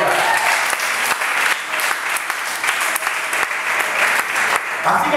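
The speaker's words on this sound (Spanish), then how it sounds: "Denle un aplauso al Rey de Gloria." A congregation applauding during a Spanish-language church sermon, a loud, sustained wash of clapping with little variation.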